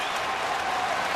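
A baseball stadium crowd stands and applauds at a Cardinals–Astros game, a dense wash of clapping and cheering that holds steady throughout the short moment.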